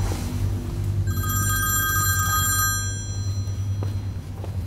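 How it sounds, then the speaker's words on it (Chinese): A telephone bell rings in bright, rapid electronic bursts for about two seconds, then cuts off, leaving a low background hum. "对不起，我接个电话。"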